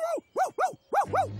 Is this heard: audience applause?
no